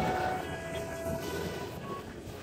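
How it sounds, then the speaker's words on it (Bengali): A train rumbles past at a steady level, a continuous low roar with no distinct horn or gaps, moderately close and heard alone without talking. "আর ওই ট্রেনটি"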